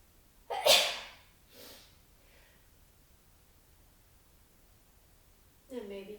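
A single sharp sneeze near the start of a Pilates mat class, followed by a softer second burst and quiet breathing, then a voice begins speaking at the end.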